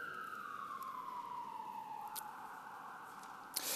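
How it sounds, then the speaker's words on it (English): An ambulance siren passes outside during a lecture, a faint steady wail that drifts slowly lower in pitch as it goes by, distant and muffled with no talk over it. "Just wait for our ambulance to go past here."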